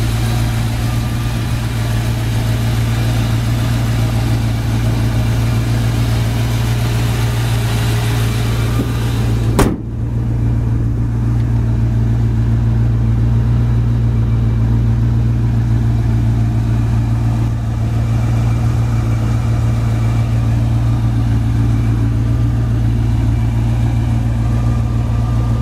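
A 1973 Ford Gran Torino with a two-barrel carburetor idles steadily nearby, a loud, even low rumble running throughout with a brief sharp knock partway through and no talking.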